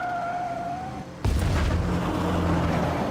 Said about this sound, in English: Another explosion. Another explosive blast.